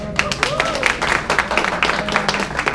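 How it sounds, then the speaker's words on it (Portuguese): Live applause for Marcondes at a gathering, a crowd clapping in a dense patter for under three seconds, with voices and some tonal sound underneath. "Uma salva de palmas para o Marcondes."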